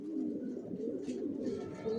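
Racing pigeons cooing close by, soft low rolling coos repeating over a quiet background.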